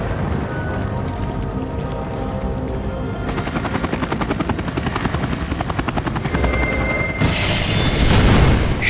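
A helicopter in Max Payne 3 takes off with loud, rapid rotor chopping that builds in intensity, joined by a booming rumble near the end.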